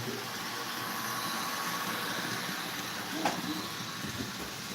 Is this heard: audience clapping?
no